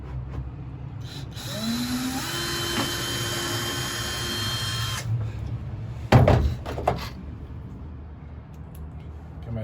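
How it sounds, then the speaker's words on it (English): A power drill whirs steadily for a few seconds drilling a pilot hole, its pitch rising briefly, then stops, followed by a sharp knock and some handling clatter. "drill a little pilot hole"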